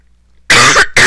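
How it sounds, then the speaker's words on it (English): A person coughs in two loud, harsh bursts at close range, the first longer and rasping, followed after a brief gap by a shorter second cough, with silence before. "I do not feel well and I can't stop coughing"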